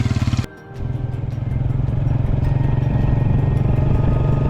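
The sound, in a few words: motorcycle ride on a Deluxe bike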